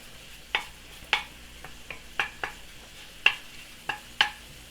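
Small fish cook in a pan and are stirred and broken up as they soften, giving a series of soft scraping clicks at an irregular rhythm over a quiet sizzle. Nobody speaks.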